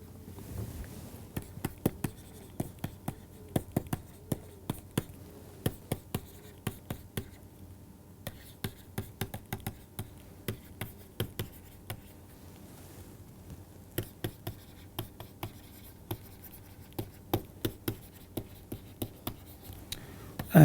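Handwriting during a physics lecture, steady scratchy pen or chalk strokes tapping and scraping in an irregular rhythm over a quiet room hiss, with no voices.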